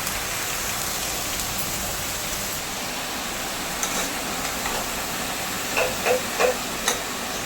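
Chopped green chillies and a little dried chilli sizzle steadily in a hot frying pan, a dense hiss with a few sharper pops near the end.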